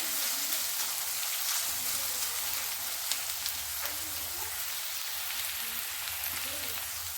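Garlic frying in an old heavy kadai for garlic rice gives a steady, dense hiss of sizzling oil that runs without a break, with occasional light stirring taps close by.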